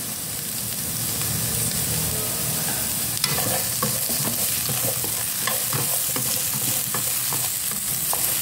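Green beans being stir-fried with garlic in a hot pan, a loud steady sizzle with repeated scraping and clattering as the spatula stirs, continuous and close with no voices.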